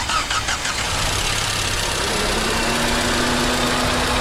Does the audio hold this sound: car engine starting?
yes